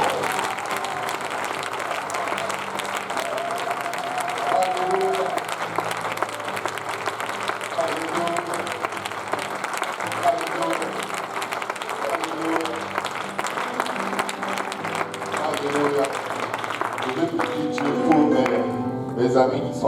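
A church congregation applauds and cheers in praise, sustained dense clapping from many hands filling the room, with a voice and some musical tones rising near the end.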